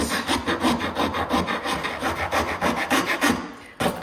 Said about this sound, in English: just gonna take a file here and just clean up the little ridges that I've got